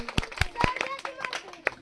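Applause for a school quiz team that answered correctly plays out as a short, scattered burst of hand claps in a classroom, irregular and fairly close, mixed with faint chatter from the room.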